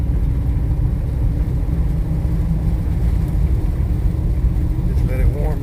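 A truck engine idles steadily while warming up, a constant low rumble that stays even and close throughout, with a faint voice near the end.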